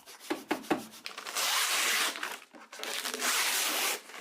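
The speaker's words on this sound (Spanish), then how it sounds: "Solo necesitaré lijar esto ligeramente antes de ponerle más epoxi." A few short scratchy strokes, then two long steady passes of light sanding across hard carbon fiber, close and fairly quiet.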